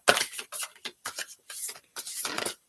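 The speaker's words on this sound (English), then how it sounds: "One more shuffle." Tarot cards are shuffled by hand close up, a series of quick papery riffles and slides in uneven bursts with brief pauses between them.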